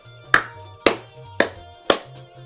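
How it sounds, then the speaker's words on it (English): Four evenly spaced, crisp claps played back on command, each one a sharp hit with a short decay over a faint, low background hum. "Jarvis clap."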